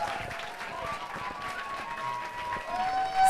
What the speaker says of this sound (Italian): Lo applaudiamo fortissimo.